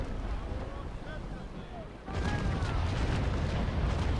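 Cannon broadside from the Swedish warship Wasa in Naval Action, heard as a loud rolling burst of booming fire that starts about halfway through and sustains over dense low rumble, after a quieter stretch of sea ambience.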